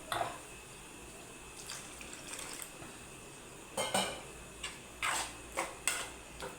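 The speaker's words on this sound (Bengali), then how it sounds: "এখানে আর একটু জল দিয়ে দেবো" Water goes into a semolina batter in a bowl, with soft pouring and dripping followed by several clinks and scrapes of a utensil against the dish, close and quiet against a faint background hiss.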